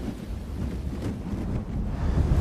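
Steady wind roars over a sandy beach, stripping grains from a sandcastle; a continuous low rumbling gust stays loud and close throughout with no voices.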